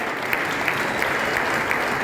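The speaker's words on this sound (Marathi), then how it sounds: "म्हणून एवढ्या हळू नाही, जोरदार नांदेड जिल्ह्यात गेल्या पाहिजे टाळ्या" An audience at a public gathering in Nanded district claps loudly and steadily, a dense continuous wash of applause with no speech over it.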